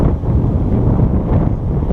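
Strong wind at a golf course pond gusts straight into the microphone, a loud low rumbling buffet that stays constant with no speech.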